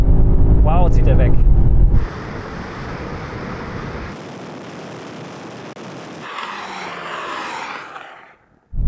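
BMW M5 pulling away in a drag race: a loud engine roar close up for two seconds, then wind rush and a fading, more distant engine note that drops away toward the end, with voices speaking.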